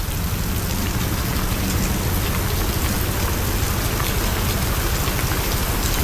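Heavy typhoon rain pours steadily in Taguig during a power outage, a dense, continuous roar of drops hitting surfaces that stays loud and unbroken throughout, with no voices.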